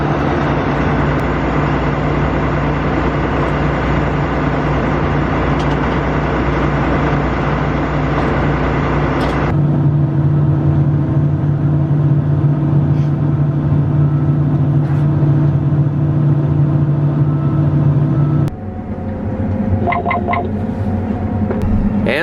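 A farm vehicle drives between fields, its engine giving a steady loud rumble and drone inside the cab, shifting in tone partway through and easing near the end, with no talk.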